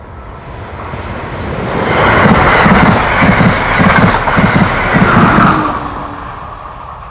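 An Amtrak Keystone Corridor passenger train passes on the line, swelling from a distant rumble to a loud rush with rhythmic wheel clatter over rail joints, then fading away.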